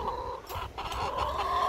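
Several chickens cluck and murmur nearby, overlapping soft calls with a few sharper squawks, no talking.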